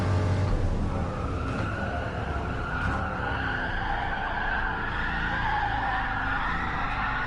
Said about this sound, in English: especially when I'm hitting the rev limiter right now